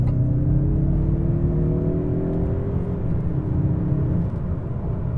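A 2024 Mazda CX-30 Turbo pulls hard in third gear in sport mode, its engine drone rising steadily under loud, constant road and wind noise heard from inside the cabin, with no talking.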